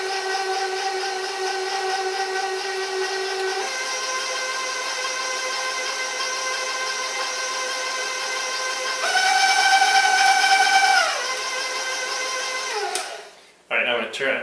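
Electric mixer running in blueberry coffee cake batter, a loud steady motor whine that holds for about twelve seconds, briefly rises in pitch and volume, then cuts off abruptly near the end, with a few clatters after.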